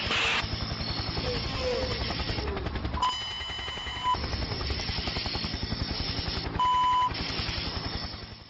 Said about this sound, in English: The faint sound of a helicopter can be heard in the background.